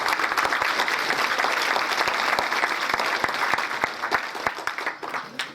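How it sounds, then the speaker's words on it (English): An audience at a Jefferson Jackson Day political dinner applauds with a dense, sustained patter of clapping that thins toward the end, with individual claps standing out. "give him a round of applause for that"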